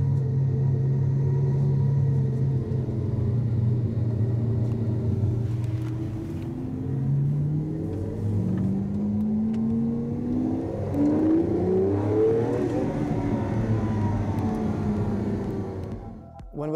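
A Lamborghini Aventador engine runs with a deep, loud rumble close by, rising and falling through several revs that sweep up in pitch.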